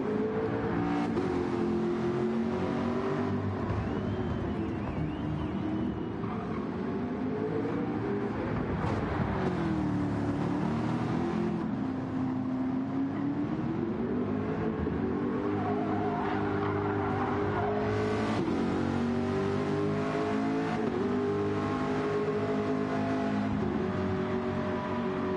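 A MARC race car laps the Circuit de Catalunya National layout, its engine droning steadily and rising and falling in pitch through gear changes and corners, heard continuously from close by with no talk.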